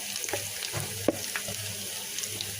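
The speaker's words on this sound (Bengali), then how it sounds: "এখন একটা কড়াইতে সরিষার তেল দিয়ে পেঁয়াজ ভেজে নিচ্ছি" Onions fry quietly in mustard oil in a wok, a faint soft sizzle with a few scattered clicks and one sharp knock midway.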